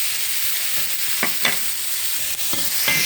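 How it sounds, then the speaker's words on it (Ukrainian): Onions frying hard in a pan, a dense constant sizzle filling the background with a few scattered scrapes and taps of a utensil stirring them, close and fairly loud, no voices. "обсмажуємо інтенсивно нашу цибульку"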